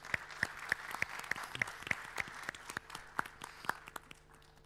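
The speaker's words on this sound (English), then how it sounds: "Please give the panel a big round of applause." Audience applause for a conference panel at a financial forum, a steady wash of clapping with distinct individual claps standing out, filling the room and slowly thinning toward the end.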